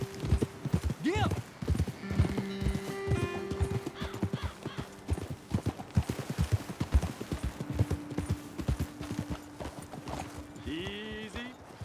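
Horse hooves clip-clop in Red Dead Redemption 2 as riders move along a trail, a steady rhythmic beat of close hoofbeats throughout, with a horse neighing and snorting and voices talking over it.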